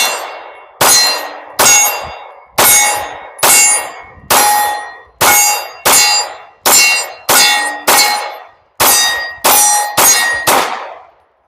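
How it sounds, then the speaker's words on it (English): A 9mm Glock 19 with a LEO Precision Shadow slide and an OEM Glock magazine fires about fourteen loud, sharp shots at a steady pace, each followed by a bright metallic ring. No one talks. "let's go ahead and throw some rounds down range"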